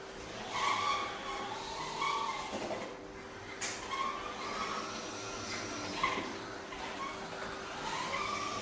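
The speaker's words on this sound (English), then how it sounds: "It can drive in a four-wheel transit configuration while keeping a low profile." A Tbot self-balancing urban warrior robot drives in its low four-wheel transit configuration, giving a steady motor whine with a constant hum and occasional wheel squeaks and clicks, no voices.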